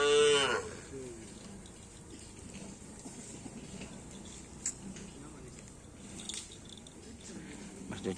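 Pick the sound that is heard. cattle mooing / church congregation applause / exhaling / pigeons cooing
cattle mooing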